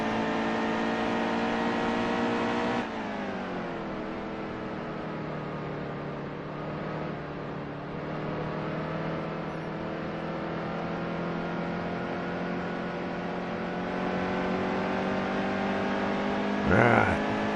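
A race truck engine in NASCAR Heat 2 drones steadily and loud throughout, its pitch dropping sharply after a few seconds, then holding and slowly climbing again, with a brief burst near the end.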